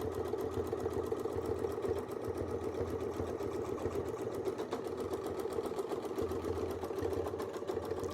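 A sewing machine quilting along a template runs in a steady, fast mechanical chatter for several seconds, even in level and close, with a brief slowing near the middle as the fabric is worked back and forth.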